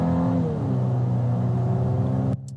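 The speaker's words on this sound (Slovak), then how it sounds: "Dobre, a zrýchľujeme na 55 míľ za hodinu, aby sme mohli namerať hladinu hluku." A 2026 Volkswagen Atlas SEL R-Line Premium SUV accelerates, heard from inside as a steady engine drone climbs in pitch, then drops away abruptly near the end.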